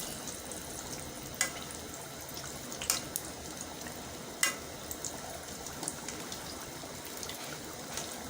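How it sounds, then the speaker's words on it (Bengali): Crispy snack frying in hot oil with more oil spooned over the top, a steady low sizzle broken by a few sharp pops and crackles. "ও পাশ থেকে পুরোপুরি ভাজা না হওয়া পর্যন্ত কিন্তু এটাকে এইরকম করেই ভাজতে হবে"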